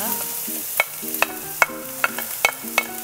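Garlic and shallots sauté in a pan as a utensil scrapes and knocks against it at an irregular pace, the distinct stirring strikes rising over a soft, steady sizzle.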